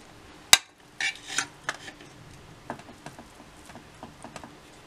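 Cooked rice spooned into a mold over a layer of eggplant and minced-meat moussaka: a sharp metal tap, then soft scraping and a string of light spoon clinks and pats against the mold, close and quiet.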